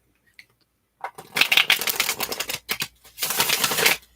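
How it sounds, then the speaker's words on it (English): Tarot cards shuffled up close in a quiet ASMR setting, several crisp papery riffling bursts with brief pauses between them. "while I shuffle the cards."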